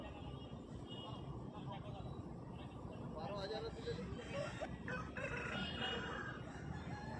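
Roosters at a village poultry market in Jhargram, West Bengal, crow and cluck from various distances, mixed with a dense murmur of crowd chatter and someone talking close by.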